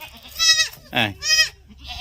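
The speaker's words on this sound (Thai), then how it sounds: "อ่าลูกแพะนะครับเนี่ยร้องหาแม่นะครับ" A goat kid standing on a raised goat house bleats for its mother: three loud, close, wavering cries in quick succession, then a fainter fourth call.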